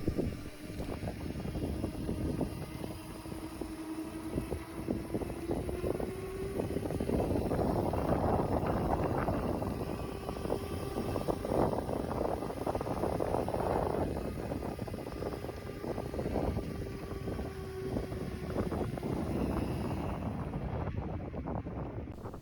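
A Razor MX650 electric dirt bike being ridden, its motor whine rising and falling in pitch as it speeds up and slows, mixed with heavy wind buffeting on the microphone.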